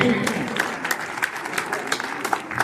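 Scattered clapping from an audience at a school function, a thin, sparse patter of hands that stays fairly quiet and steady for a few seconds; talk comes through faintly.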